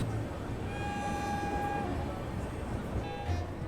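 Duronto Express train running through Mathura, heard from on board as a dense steady rumble, with a long horn note sounding in the middle and briefly again near the end.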